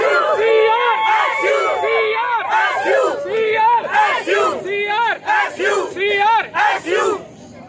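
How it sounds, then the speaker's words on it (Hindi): A large crowd at an inter-zonal youth festival cheers loudly for the UTD team, with a dense roar of shouting and whooping voices that holds steady and then breaks into several surging bursts toward the end. "एक बार जोरदार तालियां इस टीम के लिए यूटीडी की टीम।"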